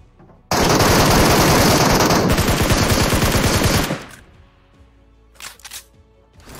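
Rapid automatic gunfire in PUBG Mobile bursts in loudly and continues for about three seconds, then cuts out, leaving quieter scattered game sounds.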